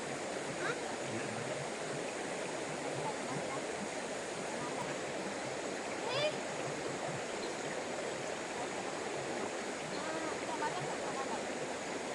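A river rushes in a steady, even wash of flowing water near the Celah Batu waterfall at Pos Tenau, Perak, Malaysia, with faint voices now and then beneath it.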